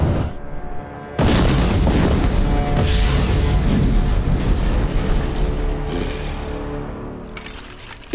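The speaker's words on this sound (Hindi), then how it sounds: "इसके आगे तोपों की मार है।" Cannon fire in an animated battle: a heavy boom bursts out after a brief lull, followed by a long rumbling roar that slowly fades, with a few sharper cracks in the mix.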